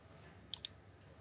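Two quick, sharp computer mouse clicks sound about a tenth of a second apart, close and crisp over a quiet room background, with no talking.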